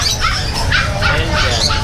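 A Belgian dog barks and yips close by in several quick, sharp bursts, with voices talking over and around the barking.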